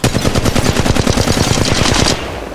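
Machine gun fire in Apex Legends Mobile: a loud, fast, steady burst of rapid shots lasting about two seconds, then cutting off into a short fading tail.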